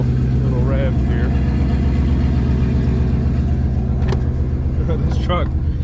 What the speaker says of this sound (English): give it a couple little revs here.